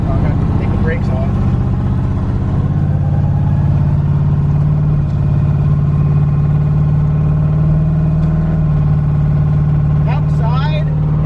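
A twin-turbocharged, LS-swapped Ford Fox Body idles steadily with a deep, smooth, continuous engine drone throughout. It stays close and loud, with brief faint clicks near the end.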